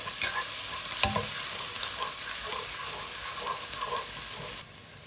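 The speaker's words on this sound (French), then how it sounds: "je vais venir mettre l'ail gingembre. Le but du jeu, c'est de faire dorer l'ensemble pendant 30 secondes" Cardamom, garlic and ginger sizzle steadily in hot oil for biryani-pulao, a close, dense frying hiss with a few sharp spatters and stirring clicks, dropping quieter near the end.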